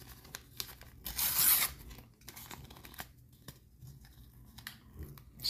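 A football sticker pack wrapper is torn open by hand: a sharp, close tearing burst near the start followed by quieter crinkles and rustles of foil packaging, with no talking.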